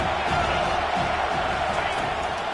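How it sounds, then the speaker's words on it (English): Stadium crowd noise from an NCAA college football video game swells in a dense, steady roar of cheering fans, loud and continuous throughout, with commentary-like speech mixed underneath. "These fans are going absolutely nuts."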